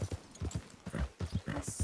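Horse hooves clip-clop in a steady trotting rhythm in Red Dead Redemption 2, close and fairly loud, with a brief hiss near the end.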